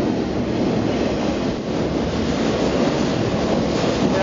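A two-mile-long double-decker freight train rolls past in Banff, its loud continuous rumble and clatter of wagons filling the air with wind buffeting the microphone, steady throughout with no talk.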